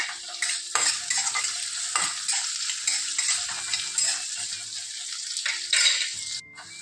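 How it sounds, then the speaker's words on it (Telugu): Onion sizzling in hot oil with cumin seeds for cabbage roti pachadi, with repeated close scraping strokes of a spoon against the pan over a steady frying crackle. "జీలకర్ర వేడెక్కాక ఉల్లిపాయ వేద్దాం"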